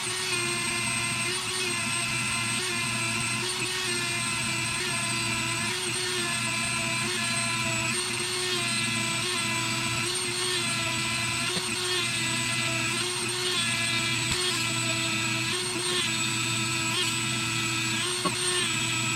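Dremel rotary tool working on guitar frets, a steady high-pitched whine that holds close and loud without a break, with the pitch wavering slightly as the bit grinds the metal.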